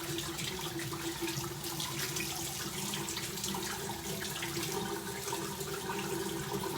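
Steady tap water running into a sink while a makeup brush is rinsed under it, a continuous close splashing stream with no talking.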